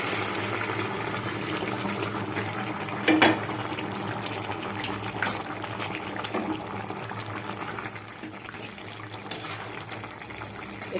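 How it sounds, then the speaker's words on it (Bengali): Hot water poured into a pan of fried spices for cauliflower curry gives a steady bubbling, boiling hiss throughout, with a couple of sharp clinks, and no voices. "গরম জল দিয়ে দিলাম।"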